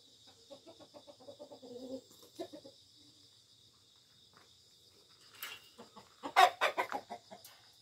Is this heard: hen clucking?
yes